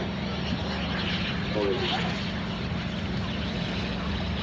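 A Jet Provost Mark 4 trainer jet taxies toward the runway at a 1996 airshow at Shoreham Airport, its engine a steady, continuous drone throughout, heard under a commentator's voice.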